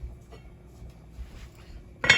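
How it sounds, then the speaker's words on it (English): A metal lid clinks onto a soup pot at the very end, one short bright clatter after a stretch of quiet kitchen room tone. "I will find my lid. I won't fully cover it."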